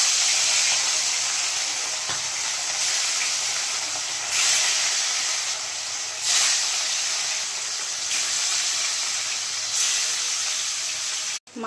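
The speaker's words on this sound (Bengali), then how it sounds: "তার জন্য মাছটা এখন ভেজে নেব।" Fish frying in hot oil, a loud, continuous close-up hiss that swells every couple of seconds as the pieces spit, running unbroken with no voices.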